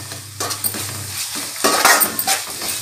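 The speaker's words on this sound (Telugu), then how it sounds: "అల్లం వెల్లుల్లి పేస్ట్ వేసుకోవాలండి కేజీ చికెన్ కు 2 స్పూన్స్ వేసుకోవాలండి" Ginger garlic paste sizzles and fries with chicken in a pan for a Kakinada-style chicken curry, a steady close hiss broken by scraping stirs of a spoon against the metal.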